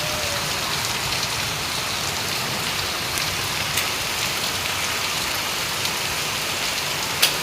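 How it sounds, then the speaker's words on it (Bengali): Heavy rain pours outside a window, a steady, close hiss of drops on surfaces that holds unbroken with only a few faint clicks and no talk. "বাহিরে কিন্তু অনেক বৃষ্টি হচ্ছে দেখুন"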